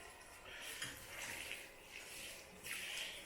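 Water sprays steadily from a garden hose or irrigation line onto potted pepper plants, a continuous close hiss that swells and eases in brief surges, with no voices.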